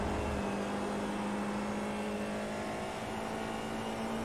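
Faint and distant, an F4 race car engine in the iRacing sim at Barcelona holds a steady, thin whine under a hiss.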